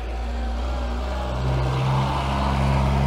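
An Austin 1300GT small classic car at a motor museum drives past with a steady low engine drone and rumble, slightly louder midway, heard nearby without speech.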